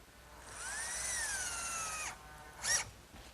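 A power drill whirs steadily for about a second and a half, its pitch sliding as it drives wood screws into cleats on a wooden kitchen hutch, then a short second burst follows.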